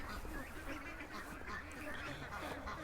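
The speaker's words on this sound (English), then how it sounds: "I'm not bringing a goose that size into the house." A large goose honking in a yard, repeated faint nasal calls over a busy background murmur, with some voices mixed in.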